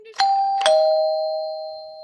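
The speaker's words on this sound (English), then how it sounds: "The doorbell rings." A two-tone doorbell chime, ding then dong, close and clear, with the second note ringing out and slowly fading.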